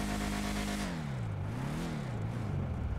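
A large car engine revs hard, its pitch climbing then wavering and rising again in a steady, loud roar close by, with no talk over it.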